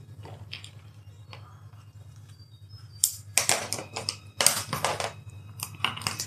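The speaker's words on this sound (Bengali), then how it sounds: "3p এটা লাল কালি দিয়ে লিখি" Marker or pen writing in red ink during a lecture on ratio and proportion, a run of scratchy strokes that grows louder and busier in the second half over a low steady hum.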